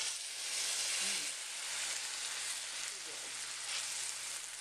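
Sauce marinade sizzling in a hot pan with pepper steak vegetables, a steady close frying hiss that holds throughout with small bubbling pops.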